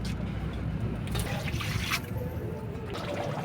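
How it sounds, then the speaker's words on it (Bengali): Water poured into a chicken curry cooking in a pot on a clay stove, a steady trickling splash over the low roar of the fire, continuing evenly for a few seconds without talk. "এইবার হচ্ছে জল দিয়ে দিলাম"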